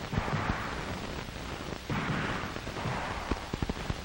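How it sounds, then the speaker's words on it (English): Gunshots ring out on a defensive firearms training range, several sharp reports scattered over a steady rumbling background, with a quick cluster of shots near the end. "He fires a good pattern with a minimum of bodily exposure."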